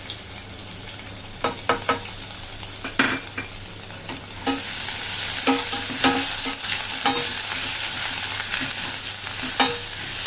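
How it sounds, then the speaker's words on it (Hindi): Garlic fries in oil in a pan while a spoon stirs it, with sharp repeated clinks and scrapes against the metal over a hiss that grows into a louder, continuous sizzle partway through. "और ये देखिए, हमारा लहसुन अच्छे से भून गया है।"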